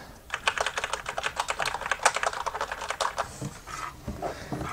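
Fast, crisp typing on a Corsair K70 RGB Rapid Fire mechanical keyboard with speed switches, a steady run of close, light key clicks heard alone at low volume.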